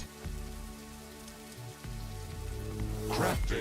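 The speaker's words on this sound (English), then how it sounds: "This rain is harmless to our base, but it decreases solar panel efficiency until it stops." Rain falls steadily in the sci-fi base-building video game The Riftbreaker, a dense patter under layered game music and tones that swells louder toward the end.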